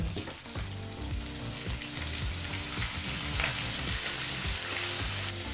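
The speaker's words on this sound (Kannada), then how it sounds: "ಈ ಮೂರು ಪದಾರ್ಥನೂ ಮೂವತ್ತು ಸೆಕೆಂಡ್ಗಳ ಕಾಲ ಫ್ರೈ ಮಾಡ್ಕೋಬೇಕಾಗತ್ತೆ" Ginger, curry leaves and green chillies frying in hot oil for upma, a loud, steady, close crackling sizzle that runs without pause.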